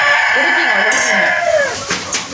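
A chicken gives a short run of close, fairly loud clucking calls that rise and fall in pitch over an otherwise quiet outdoor backdrop.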